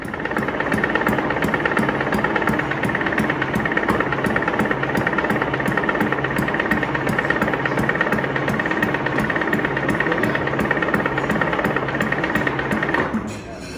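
A Detroit Diesel 6-71 engine on a stand, without fuel, cranks over with loud, fast mechanical knocking, chugging steadily for several seconds, then cuts off abruptly near the end.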